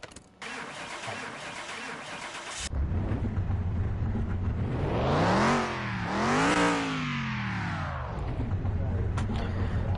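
A car engine in Car Mechanic Simulator cranks and starts after a burst of game noise, then revs up and down twice before settling to a steady idle, loud and close.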